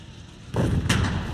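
In the war game Foxhole, an anti-tank gun fires at a bunker: two heavy, booming shots land in quick succession, loud and close, with rumbling tails.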